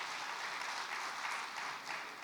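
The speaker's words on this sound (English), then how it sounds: "I think that deserves an outstanding round of applause" A round of applause rises from the audience at a customs event, steady, dense clapping filling the short moment with no talking over it.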